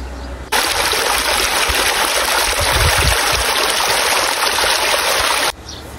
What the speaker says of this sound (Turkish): bir tarafta dere şırıltısı